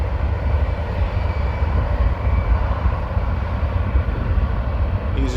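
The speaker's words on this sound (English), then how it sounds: "EasyJet going to London, and this is a A319." An EasyJet Airbus A319 takes off from Amsterdam airport's Aalsmeerbaan runway with a loud, steady jet roar, deep rumble throughout and a few faint voices nearby.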